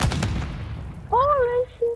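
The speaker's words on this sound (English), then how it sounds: "I just sniped somebody and I jumped him too" A long-range sniper rifle with an upgraded barrel fires in a video game: a sharp, loud shot and echoing boom at the start, then a rising tonal game sound as a voice speaks over it.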